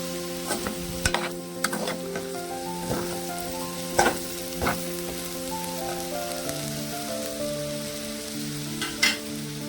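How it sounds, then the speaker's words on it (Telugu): Potatoes fry in a pan for a potato curry, a continuous close sizzle broken by repeated sharp clacks and scrapes of stirring, with a faint background hum and no talk. "వేయిస్తున్నాను."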